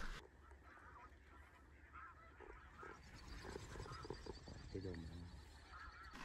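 Geese honk from a distance over a field during an Alberta waterfowl hunt, a scattered chorus of calls rising and falling, with a voice murmuring nearby in a blind.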